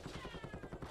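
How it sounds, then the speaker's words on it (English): Rapid gunfire from a Call of Duty League match, a fast rattling burst of repeated shots at low level, steady and continuous for the whole second, no speech over it. "A lot of gunfire rattling out towards those archways."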